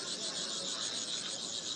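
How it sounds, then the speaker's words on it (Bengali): Caged crickets at a Chinese second-hand market chirr in a continuous high-pitched pulsing trill, close and steady throughout. "ডাকগুলো আপনারা শুনতেই পাচ্ছেন কত সুন্দর।"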